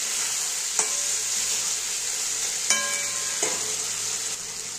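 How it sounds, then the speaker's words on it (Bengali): Ginger, cumin and chili paste fries in a pan for a tuna and eggplant curry, giving a steady close hiss broken by three sharp scrapes of stirring. "এবার আমি নেড়ে দেবো ভালো করে"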